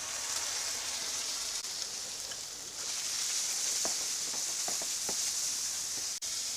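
Boneless chicken pieces dropped into shallow-fried onion sizzle steadily in a pan, a soft even hiss with small scattered pops and crackles throughout.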